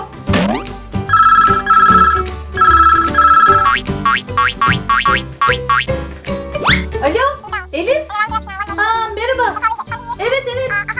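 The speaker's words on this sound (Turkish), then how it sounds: "Telefonum çalıyor." A mobile phone ringtone plays two loud bursts of bright electronic ringing in a kitchen, followed by a jaunty melodic tune with boings and plops, no talk over it.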